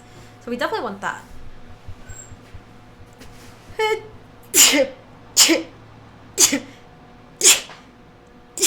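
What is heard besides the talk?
sneeze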